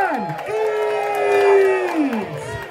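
Festival spectators at a chilli eating contest cheer and whoop loudly, voices rising and swelling together in a sustained roar with some clapping mixed in.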